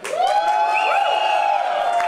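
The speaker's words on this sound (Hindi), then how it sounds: "तो जुनेजा जी के लिए भी जोरदार तालियां" Crowd at a music album launch event cheers and whoops loudly and steadily, with applause blended into a continuous, close wash of noise for about two seconds.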